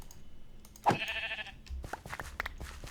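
A sheep in Minecraft, Forgecraft modpack, gives one loud, close bleat around the one-second mark, followed by clicky keyboard-like taps and low rumbles.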